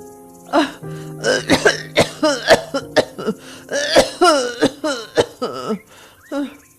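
Harsh, repeated coughing in rapid bursts with throat-clearing and strained gasps between fits, loud and close, no talking.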